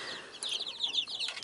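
Hens and chicks fed watermelon give quick, close clucks and chirps in a busy, continuous flurry.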